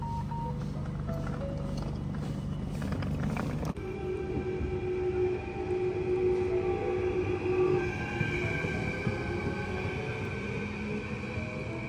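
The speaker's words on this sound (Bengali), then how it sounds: "এই ট্রেনে করে এখনও আমাদের আরও 15 মিনিট মতো যেতে হবে।" Passenger train travelling between a Dutch city and the German border, heard from on board: a steady rumble of running gear with wheel-on-rail rattle, sharpening after a few seconds as a tonal whine rises over the continuous ride noise.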